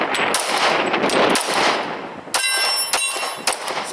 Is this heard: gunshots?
yes